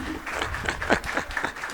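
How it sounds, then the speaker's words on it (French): Brief burst of audience clapping at a talk in the Congo, an uneven patter of hands of moderate loudness, with some voices mixed in. "Ah, ça s'applaudit."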